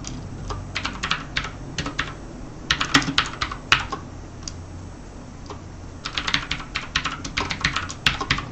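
Computer keyboard keys clatter in quick, irregular bursts while code is written, close and fairly loud, with brief pauses between runs of typing and no talking.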